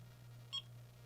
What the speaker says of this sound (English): you have that beep.